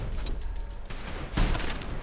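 A grenade blast in the first-person shooter Trepang2 during slow-motion, a loud booming burst with rumbling low end landing partway through amid ongoing game noise.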